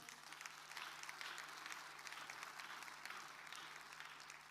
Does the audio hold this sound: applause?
yes